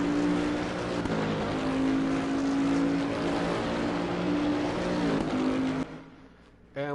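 Bentley race car at Zolder in the racing game Assetto Corsa Competizione, engine droning loudly with steady tones and a few shifts before the sound cuts out abruptly near the end.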